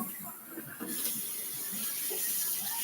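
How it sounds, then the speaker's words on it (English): Cold water runs from a kitchen tap into a container, a steady close hiss that swells and brightens about a second in as the flow strengthens, continuing alone without talk. "So I turn on the cold water."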